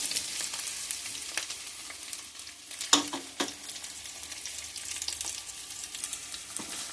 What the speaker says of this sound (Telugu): ఇప్పుడు ఈ పక్కన ఉన్న ఇవి ఆనియన్స్, పచ్చిమిర్చి, టమాటా, కరివేపాకు ఈ 3 కూడా వేసేయండి ఇందులోని.